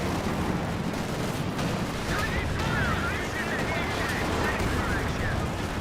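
Tank cannons and battlefield gunfire roar in Company of Heroes 2, a dense, continuous wall of loud explosive noise with overlapping blasts and no quiet gaps, while a commentator speaks over it.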